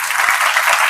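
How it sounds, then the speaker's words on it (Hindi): Audience at a girls' skills camp closing gathering clapping, a brief continuous burst of applause from a crowd. "तालियां बजाओ, बढ़िया।"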